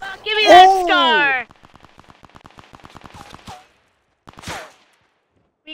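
Rapid burst of gunfire in Fortnite, a fast run of sharp shots following a loud voice, then a few isolated cracks.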